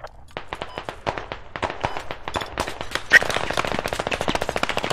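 Rapid automatic gunfire in the Squad Ops video game, dense bursts of shots that build to near-continuous fire, loud and close with a faint voice underneath.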